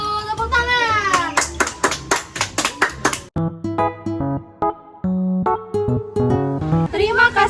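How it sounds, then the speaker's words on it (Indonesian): Children clap in a classroom, with sharp, rhythmic claps mixed in with young voices and tuneful, sing-song sounds. "Betul, tepuk tangan."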